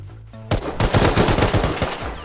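Rapid automatic gunfire in the survival game Rust erupts after a brief quiet and rattles on as a dense, loud burst of repeated shots for about two seconds, with no talking.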